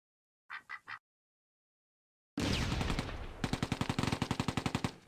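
Gunfire in a war video game, with a 17-pounder anti-tank gun facing a Mark IV tank: a few short bursts, a pause, then a loud blast followed by a rapid, evenly spaced machine-gun rattle, close and intense.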